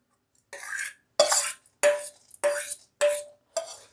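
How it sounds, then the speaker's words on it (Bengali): Gobindobhog rice added to milk and stirred for Bengali payesh: about six separate scraping, swishing stir strokes in a pot, fairly close, with short pauses between. "ঠিক এই সময় চালটা এতে দিয়ে দেবো"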